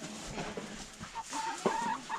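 Chickens clucking around a rabbit cage in a winter hen and rabbit housing setup, soft intermittent clucks and short calls at close range, moderately quiet, with no talking.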